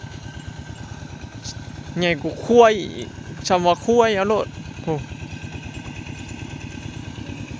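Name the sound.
tractor engine running for ploughing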